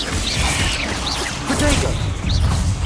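Confringo and Bombarda spell blasts in the video game Hogwarts Legacy, several mid-loud crashes and whooshes spread across busy combat noise, with no single dominant boom.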